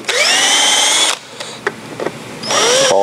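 A power tool chasing paint and dirt out of bolt threads on an engine flywheel and field coil, whining loudly for about a second, then brief clicks and knocks before a second whining burst at the end, close and with no talk.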